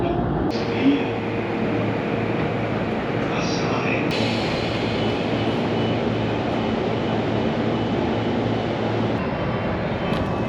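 Inside a moving commuter train in the Tokyo and Saitama area, a constant loud rumble of wheels and cabin hum fills the space, with brief clicks and shifts in the noise, and a voice speaks over it.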